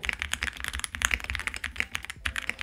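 Rapid typing on a custom TKL mechanical keyboard, crisp clacky keystrokes on the alphanumeric keys in an uneven flurry, close up with no voices.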